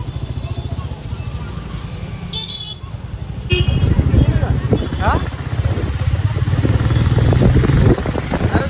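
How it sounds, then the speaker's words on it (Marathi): Heavy road traffic near a temple rumbles steadily, with motorbike and car engines close by and several short horn toots cutting through, while people talk over the din. "आणि मंदिरला झाले मजबूत ट्रॅफिक."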